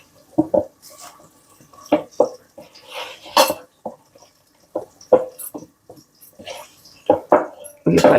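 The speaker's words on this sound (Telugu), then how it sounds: "ఉల్లిపాయలు కదుపుదాం, కొద్దిగా మాడిపోతాయి." Onions being stirred in a pan for a masala, heard as a string of scraping, clinking utensil strokes against the metal, irregular and close, with someone talking between the strokes.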